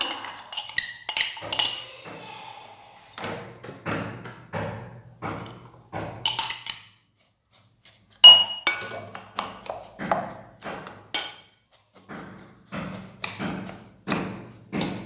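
Almonds and sugar stirred together in a bowl for a mini tart batter, giving a run of rhythmic scraping and clinking strokes of utensil against the bowl, close and fairly loud, with short pauses between bursts.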